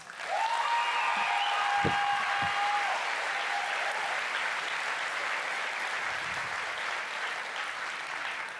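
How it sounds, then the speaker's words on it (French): Sustained audience applause at a national final, loud and steady throughout, with a brief whistle-like tone and a couple of thumps near the start before the clapping settles into an even roar. "Un maximum d'applaudissements."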